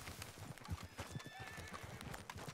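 In Red Dead Redemption 2, a horse whinnies while hooves clop in a steady, busy rhythm, with faint background noise throughout.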